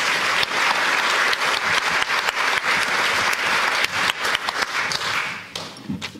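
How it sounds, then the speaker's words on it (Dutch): Audience applause after a speaker's introduction at a Dutch panel event on youth and euthanasia, a loud, dense burst of clapping that holds steady before thinning out and fading near the end. "Een hartelijk applaus ook."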